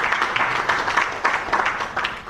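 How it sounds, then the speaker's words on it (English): Applause from an audience at an anti-corruption commission retreat in Sierra Leone, a short, dense burst of clapping heard close and fairly loud. "clap for them."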